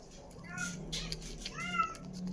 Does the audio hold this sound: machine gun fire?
no